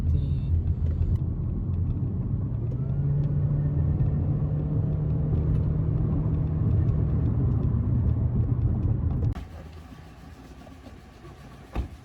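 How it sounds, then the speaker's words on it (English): A 2018 Honda Civic 1.8 E accelerates along a straight road, its engine note rising steadily over loud cabin road rumble before dropping away abruptly near the end. "We're gonna test the acceleration of this car in a little bit."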